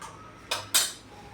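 Two quick metallic clinks ring out as a spoon knocks against a bowl, tossing french fries with flour, cornflour, salt, chutney and spices in a quiet kitchen.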